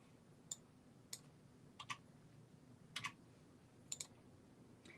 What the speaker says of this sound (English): I'm just using the arrows on my keyboard.